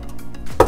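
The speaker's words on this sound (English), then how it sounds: "I'm gonna be using this side of the grater to grate my ginger" Ginger is rubbed across a box grater in one short, rasping stroke that comes up suddenly near the end after a quiet, faintly humming moment.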